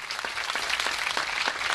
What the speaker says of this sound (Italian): L'applauso alle finaliste di Miss Vesuvio 2010.